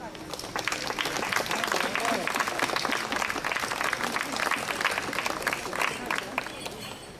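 An audience at an outdoor town fair applauds, dense sustained clapping that swells and holds for several seconds before easing off, with crowd noise mixed in.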